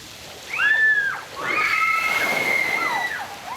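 Water splashes and sloshes at a caravan park splash zone for kids, loud and close, with bursts of spray and bright squeals of children over the running water.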